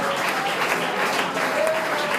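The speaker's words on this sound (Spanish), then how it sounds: "se merece un chorro de aplausos también" A church congregation applauds during a worship service, with dense, steady clapping that fills the whole stretch at an even level and a voice faintly heard under it.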